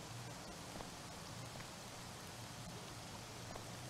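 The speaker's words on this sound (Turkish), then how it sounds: "Ve yine yağmur yağıyor." Steady rain falls throughout in the Car Dealership Simulator video game, a constant soft hiss of drops spread evenly across the scene with no breaks and no talk.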